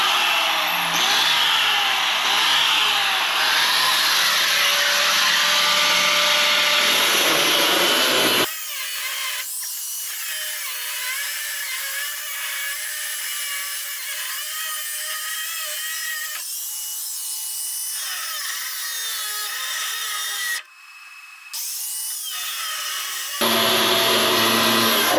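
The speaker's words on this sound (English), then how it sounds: "And this 7-inch disc on the 4-inch grinder is pretty awesome." A 4-inch angle grinder fitted with a 7-inch disc cuts a metal bar, giving a loud, steady high-pitched whine and grinding that drops to a lighter whirring midway, then briefly cuts out and returns.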